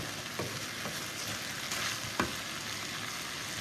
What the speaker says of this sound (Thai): ตอนนี้นะคะผัดเสร็จแล้ว